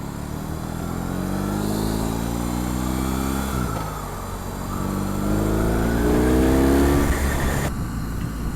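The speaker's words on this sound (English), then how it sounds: "We're on the BMW R18 Roctane, and it is vibrating like crazy." A BMW R 18 Roctane motorcycle engine while riding, a loud, steady, close drone that rises and drops twice as the rider works through the gears, with heavy wind rush over it.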